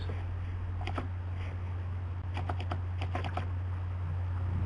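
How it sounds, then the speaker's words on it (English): Keyboard typing during an online bridge match broadcast, with scattered clicks and short bursts of keystrokes over a steady low hum, close and fairly quiet, with no voices. "We can hear you typing, Bill, but we can't hear your voice."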